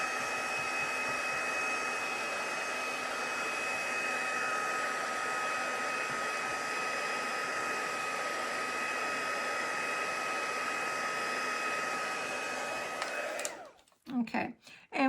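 A hair dryer blows steadily and close for about thirteen seconds, drying painted watercolor lettering on a spring door tag, then cuts off into brief handling noises.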